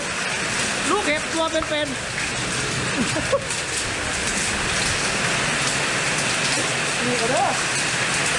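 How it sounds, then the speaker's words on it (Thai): Hail and heavy rain pound down during a village storm in Thailand, making a dense, constant roar of drumming. A voice and other voices call out over it. "ลูกเห็บมาครับลูกเห็บ"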